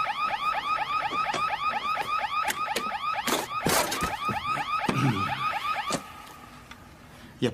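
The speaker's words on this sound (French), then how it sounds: "c'est juste une alarme" A car alarm blares nearby in a fast, repeating rising-and-falling wail, loud and insistent, broken by a few sharp bangs before cutting off near the end.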